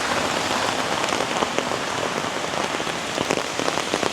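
Heavy rain pours down in downtown Toronto, a loud, steady downpour drumming on surfaces close by, with dense, unbroken patter throughout and no voices.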